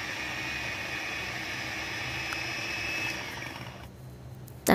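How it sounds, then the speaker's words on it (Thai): An electric mixer whips three egg whites into coarse foam, giving a steady, fairly faint high whirring hum that runs evenly before cutting off near the end. "จากนั้นเราไปตีไข่ขาวค่ะเราใช้ไข่ขาวเบอร์2จำนวน3ฟองนะคะตีให้ขึ้นฟองหยาบ"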